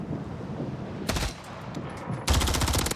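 Automatic gunfire in the Modern Warfare III video game, one short burst, a pause, then a longer loud rapid burst over a steady background hiss, with no talking.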